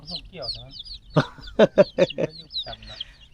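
Chickens on a rural farm cluck in a quick run of sharp, close calls, bunched together in the middle and trailing off into scattered softer clucks, while a person's voice is heard faintly.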